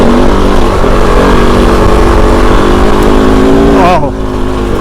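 Kove 450 Rally dirt bike engine droning loud and steady while riding fast through a desert wash, with a pitch shift and slight easing near the end; a voice is heard over the engine.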